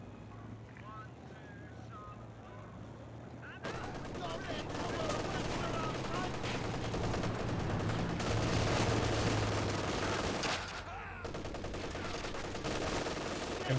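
Machine gun fire rattles through a Company of Heroes 2 battle as a steady dense barrage under the noise of combat, with a commentator talking over it.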